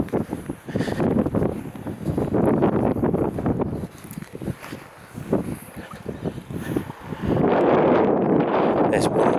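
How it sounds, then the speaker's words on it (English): Strong gusty wind buffeting the microphone outdoors at the ruins of a castle, a loud rumbling roar that rises and falls continuously, swelling again toward the end with light rain beginning. "It's getting a bit windy now."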